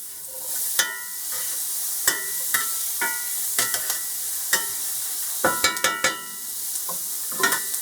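Ground beef for stroganoff browns in a pan with a steady sizzle, broken by scattered scraping stir strokes and utensil clicks that bunch together near the end.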